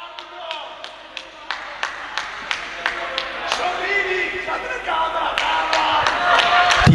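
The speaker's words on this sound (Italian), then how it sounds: "Tifosi che sfottono alla stragrande l'arbitro per questa scelta arbitrale" Basketball fans in an arena reacting to a technical foul against the referee, with rhythmic sharp claps and bangs repeating about twice per second, building into a louder, denser crowd roar of jeering voices near the end.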